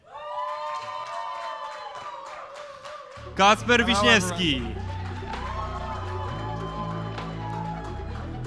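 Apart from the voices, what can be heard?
crowd applause and cheering at summit stage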